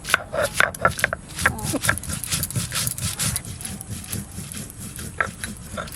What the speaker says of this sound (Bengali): আদা শুকনো লঙ্কা জিরে রসুন কাঁচা লঙ্কা আর ধনে একসঙ্গে বেটে নিচ্ছি